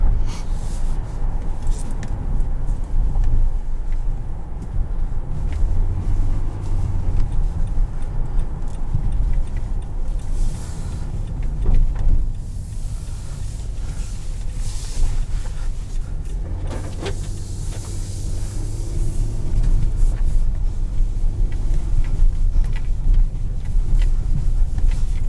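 Cabin noise from a 2020 Nissan Pathfinder Platinum with a naturally aspirated engine and CVT driving over snow: a steady low engine and road drone with faint ticking and occasional rattles throughout.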